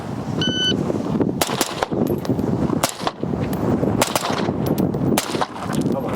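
A rifle with an Aegis upper receiver fires a rapid series of sharp, close shots at an uneven pace, about a dozen cracks ringing out over several seconds with no talk.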